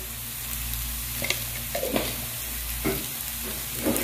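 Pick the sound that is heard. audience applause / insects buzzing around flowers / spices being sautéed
spices being sautéed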